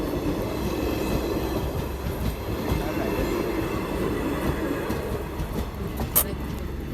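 A train rolls past a railway crossing where a loaded Alto car waits, making a loud, steady, close rumble with rhythmic wheel clatter and a brief sharp squeal near the end.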